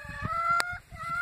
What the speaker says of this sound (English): Chickens and turkey are out enjoying the springtime, eating bugs and doing whatever.